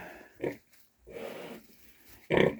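Newborn piglets in their first hours grunt and snort in short, close bursts separated by quiet gaps, with one louder squealing grunt at the end.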